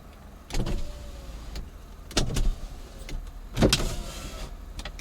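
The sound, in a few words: power window of a Peugeot car being lowered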